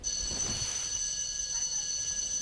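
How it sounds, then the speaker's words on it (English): A game's countdown timer alarm rings loudly and continuously, with steady high-pitched tones over a low rumbling background throughout. "that very loud noise, if you could hear it, was the timer saying that I'm out of time"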